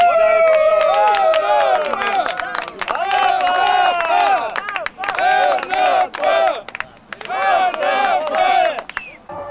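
Football fans from Anapa chant and cheer loudly at a match, a large crowd shouting in rhythmic bursts with pauses between.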